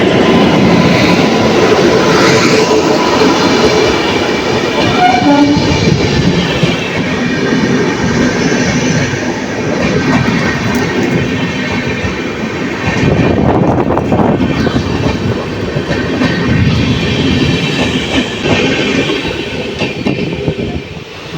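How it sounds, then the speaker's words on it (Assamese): An electric train runs through a crossing in Assam, a loud, steady rolling roar of wheels and wagons that swells in the middle and holds close throughout, with no talk. "এখন ইলেক্ট্ৰিক ট্ৰেইন আহি আছে, মানে ইলেক্ট্ৰিক কাৰেণ্টত চলাখন।"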